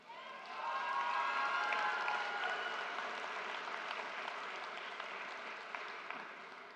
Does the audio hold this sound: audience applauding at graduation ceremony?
yes